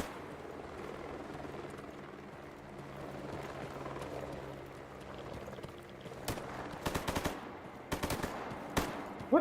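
Distant gunfire in the game Stalker Gamma, quiet ambient noise at first, then short rapid bursts of automatic fire and single shots near the end, fairly faint and far off.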